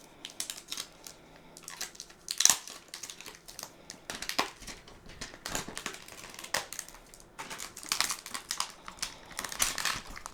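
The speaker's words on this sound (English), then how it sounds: "So let's go ahead, peel it off." Protective film is peeled off a grey-green Samsung Galaxy Z Fold 4, making close, crinkly crackling and soft tearing sounds in quick irregular bursts, with one sharper snap early on.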